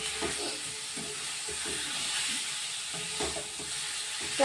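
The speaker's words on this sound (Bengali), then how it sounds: "চিকেনটা দিয়ে দিলাম, দিয়ে এবার নাড়তে হবে।" Chicken pieces sizzle softly in a pan of masala while being stirred, with intermittent scrapes over a low steady hiss at moderate distance.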